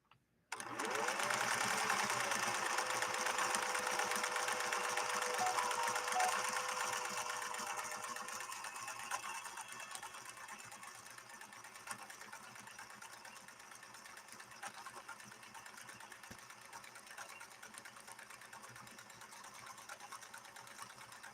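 A Husqvarna Viking 21E sewing machine stitching in one long continuous mechanical whir, loud at first and easing to a steadier, softer hum near the mic, with no voice.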